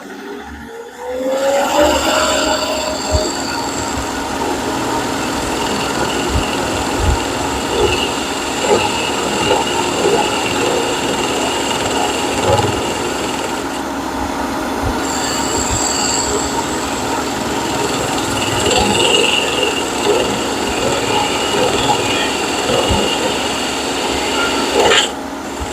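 A wooden Celtic knot ice cream scoop handle is sanded, likely on a power sander, giving a loud continuous grinding whir with a steady hum that holds almost unbroken for the whole stretch.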